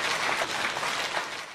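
A church congregation at a Sunday healing and deliverance service claps steadily, a dense wash of hands filling the hall with no voices over it.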